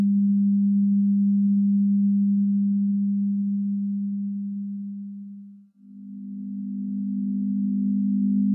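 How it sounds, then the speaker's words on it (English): A steady low 200 Hz sine tone hums, dips briefly to near silence, then returns as a slightly thicker tone blending 200 Hz and 250 Hz sine components. "This is a composite sound with a 200 Hz sine wave and an additional component at 250 Hz."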